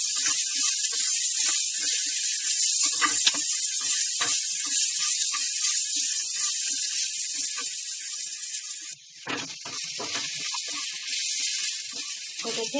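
Ground masala spice paste sizzles in a hot pan as it roasts, a steady close hiss that holds evenly for several seconds, dips briefly, then carries on.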